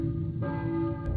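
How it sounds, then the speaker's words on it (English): Church bell tolling in the video game Silent Hill, a single sustained, ringing tone with a low droning resonance, heard alone and fairly steady for about a second. "hears a church bell ringing in the distance"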